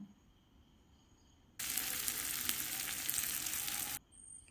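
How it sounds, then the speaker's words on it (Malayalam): Red shallots hit hot coconut oil and break into a loud, steady sizzle that runs for a couple of seconds before cutting off abruptly, with quiet room noise on either side. "ചൂടായ വെളിച്ചെണ്ണയിലേക്ക് കുറച്ച് ചുവന്നുള്ളി ചേർത്തൊന്ന് വഴറ്റിയെടുക്കാം"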